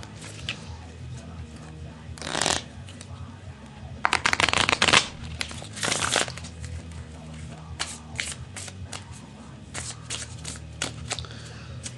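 A deck of playing cards is shuffled during a card trick, with several crisp riffling bursts: a short one, a longer louder flurry, then smaller ruffles spaced out over a quiet room.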